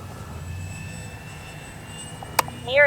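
An RC X-Fly Spitfire warbird model airplane flies at a distance, its steady engine drone holding evenly throughout, with a sharp click near the end and a brief rising whine closing it out.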